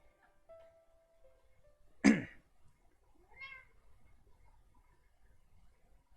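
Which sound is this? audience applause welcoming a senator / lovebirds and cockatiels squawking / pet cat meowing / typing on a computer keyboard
pet cat meowing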